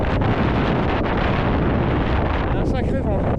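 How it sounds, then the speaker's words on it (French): Strong wind buffets the microphone at a Téléthon charity run with runners, mountain bikers and walkers, a loud continuous roar near the end of the last loop. "Un sacré vent."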